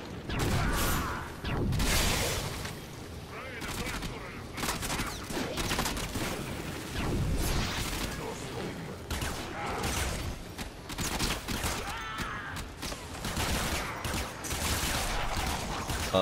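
Automatic weapon gunfire in the Warframe video game: dense, continuous rattling bursts with clattering mechanical effects, loud and sustained throughout with no talk.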